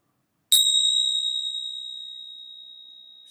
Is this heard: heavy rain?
no